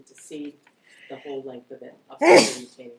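One sharp, loud sneeze bursts out near the end of a committee meeting, amid ongoing conversation about a site.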